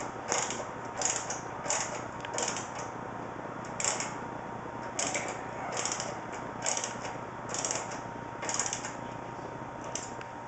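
A screw being driven into plastic while a gaming PC is assembled, heard as a series of short ratcheting clicks in bursts at an uneven pace, close by, over a faint steady hum.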